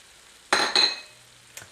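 Onions and garlic, diced and minced, hit a hot chili pot with a burst of loud sizzling and a scrape of stirring, fading to a softer fry before a brief clink near the end.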